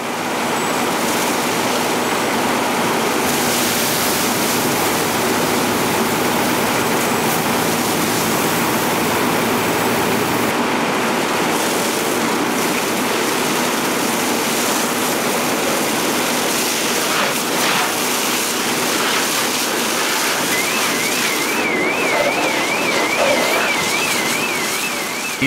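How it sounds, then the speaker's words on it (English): A fire hose sprays water onto a burning car engine compartment with magnesium components, giving a loud, continuous rushing hiss that runs unbroken from start to end. "As Josh puts water on the fire in the engine compartment, its magnesium components react violently with the water"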